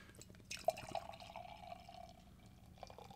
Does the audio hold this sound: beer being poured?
yes